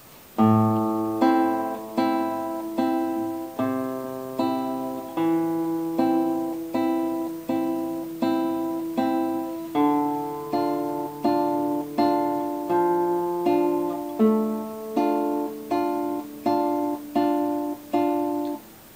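A classical guitar plucks a slow, even melody over bass notes from Ferrer's "Allegretto Moderato," each note ringing and decaying in a steady three-beat rhythm.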